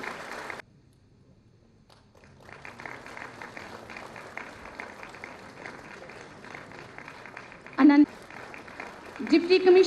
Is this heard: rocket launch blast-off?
no